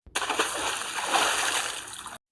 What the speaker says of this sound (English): Then Peter threw some water in Ellie's face.